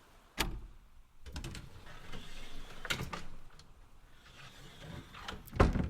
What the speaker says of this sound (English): You turn the little handle and the door opens easily.